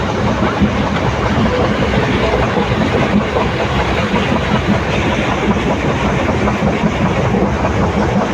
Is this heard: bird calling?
no